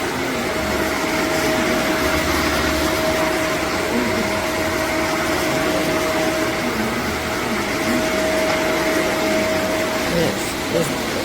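A Shark AZ2002 Vertex Powered Lift-Away upright vacuum cleaner with DuoClean runs close by with a loud, constant whirring roar and a steady high whine on top, with no break in the sound.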